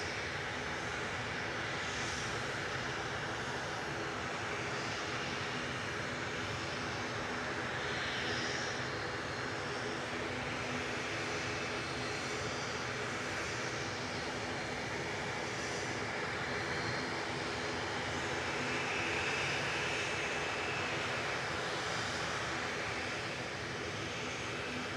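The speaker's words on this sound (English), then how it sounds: "EasyJet just lined up from Victor Charlie there, going to Paris Charles de Gaulle" An EasyJet jet airliner bound for Paris Charles de Gaulle sits lined up on the runway at Manchester Airport, its engines giving a steady, fairly distant roar that holds for the whole stretch with no voices.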